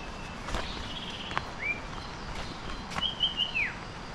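A bird sings near a waterfall in Bali, giving thin, high whistled phrases, one short note and then a longer run of several clear notes, fairly distant over a constant rushing background.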